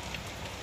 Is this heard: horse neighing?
no